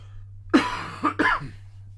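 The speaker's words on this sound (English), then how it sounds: "Cough, cough, cough." Three quick coughs from one person, close up, the first sharpest, in an otherwise quiet room with a faint hum.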